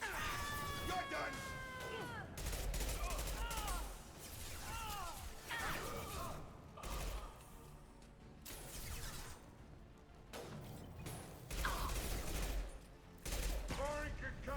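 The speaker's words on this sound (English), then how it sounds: "Firing concussive shot." In the Mass Effect 2 video game, a Concussive Shot is fired amid a busy combat mix of blasts, gunfire and crashes. Voices talk over the action throughout.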